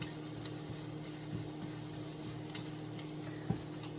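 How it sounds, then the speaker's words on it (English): Pancetta and red onion frying in bacon fat, a quiet steady sizzle with occasional small pops and stirring clicks, heard alone without voices. "Just cook it right in the bacon fat."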